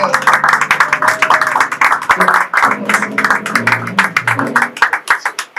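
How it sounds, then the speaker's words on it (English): Audience at a church pre-business summit and birthday celebration giving a standing ovation, with dense, loud clapping and cheering throughout that tapers off near the end, mixed with voices. "with a clapping ovation as you're really standing, help me welcome Apostle McDavid Eze"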